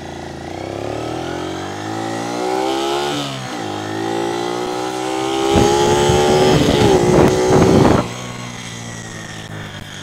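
Honda CD 125T motorcycle from the 1980s revving during a test ride, a close engine climbing and falling in pitch through several throttle blips, with a harsh, loud burst near the end and a voice partly underneath.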